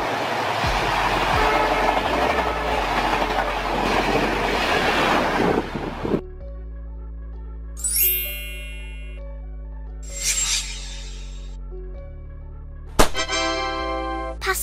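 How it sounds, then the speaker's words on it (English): A regional passenger train rumbles past nearby for about six seconds, loud with wind buffeting. Quieter stretches follow, broken by several separate bright chime-like tones. "Regional train, a passenger train that serves short to medium distances, typically connecting smaller towns and cities within a region."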